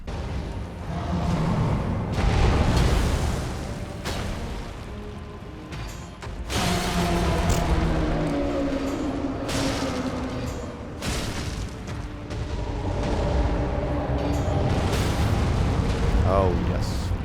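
Fire chant weapon skill explosions in a video game, loud repeated booming blasts and rumbling bursts that continue steadily throughout with only short dips between them.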